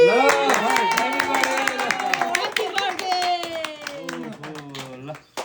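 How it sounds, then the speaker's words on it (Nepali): Guests clap together at a birthday cake cutting, a quick patter of close hand claps running under voices singing and talking throughout. "दुर्गाजीले बिहा नगरे भए अब त्यसैले केक काट्ने व्यवस्था गरौँ सबैजनाले ताली"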